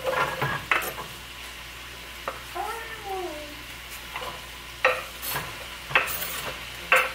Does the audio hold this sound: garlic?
yes